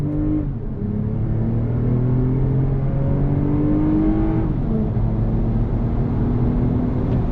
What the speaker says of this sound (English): I wanna do a acceleration test from a dead stop here